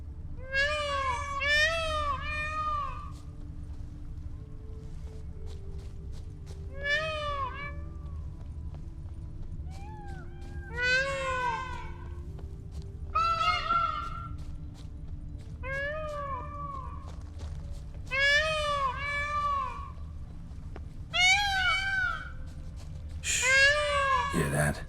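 Birds in The Witcher 3 calling to each other: repeated bursts of high, rising-and-falling warbling calls arrive in clusters every few seconds over a low background hum, fairly clear and close.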